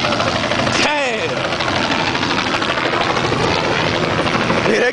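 A helicopter hovers over a street race, its steady loud rotor and engine drone dominating, while people talk excitedly nearby.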